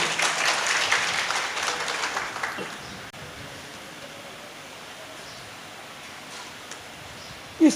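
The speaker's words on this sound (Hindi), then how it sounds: "तालियों से स्वागत।" An audience at a devotional religious discourse claps, a loud burst of applause for about two and a half seconds that quickly fades into quiet room noise.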